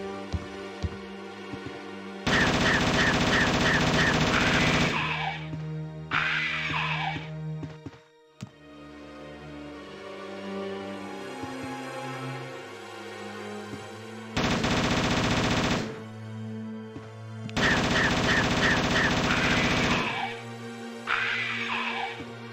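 Video game gunfire fired at hunters inside a house comes in several long, loud, blaring bursts, separated by quieter stretches of music and ambient game sound.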